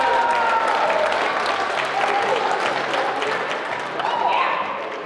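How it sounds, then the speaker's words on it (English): An audience at a high school recognition event applauds a teacher with steady, full clapping that swells and holds for several seconds before starting to fade, with some crowd murmur underneath. "let's give Mrs. Wolfing a hand of applause."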